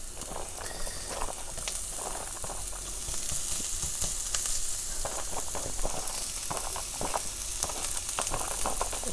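Onions frying over a high flame in a pan for paneer chilli give a steady, dense sizzle that crackles and hisses continuously throughout, close and fairly loud, with no voices.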